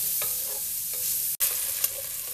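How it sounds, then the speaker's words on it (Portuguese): Bacon frying in a pan sizzles with a steady hiss, broken by a few soft stirring scrapes and a brief gap. "nosso bacon já está fritinho, ó, já está fritando"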